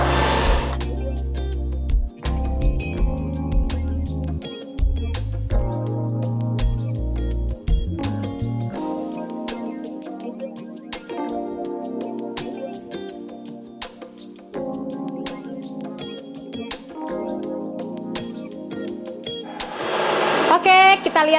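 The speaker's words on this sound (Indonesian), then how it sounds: "Kita turunkan speed mixer." An electric mixer beats thick, fluffy cake batter with a steady high whir, dropping to a lower speed partway through and surging louder again at the end.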